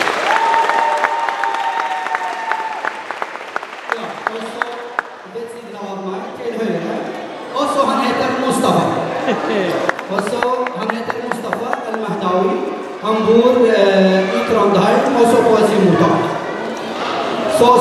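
An audience at an international day event in Ski claps for a singer, scattered applause mixed with voices, chatter and shouting through much of the clip.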